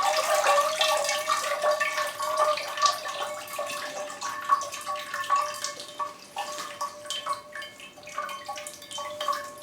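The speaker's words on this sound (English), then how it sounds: "these are actually getting straight water without it having been through another pot" Water poured over potted Cymbidium orchids splashes and drips continuously up close, a varied, bubbling trickle that swells and eases as the flow moves, with no one talking.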